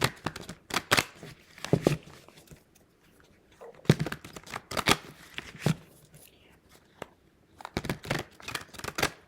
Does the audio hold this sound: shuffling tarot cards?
yes